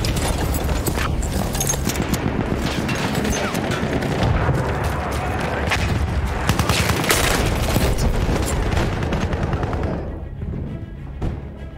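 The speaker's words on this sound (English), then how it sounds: "That's an enemy shot." Enemy gunfire in Battlefield 1 during a Domination match, a dense, continuous barrage of shots and blasts, loud and close, that carries on for about ten seconds before dropping away.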